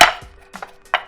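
Brief scrapes of a spatula across a pan lifting off seared paprika-seasoned food: a sharp scrape at the start, then a couple of short, close scratchy strokes.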